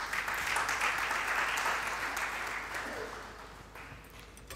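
A church congregation applauds and cheers the Lord with a dense, steady roar of clapping that slowly fades over several seconds.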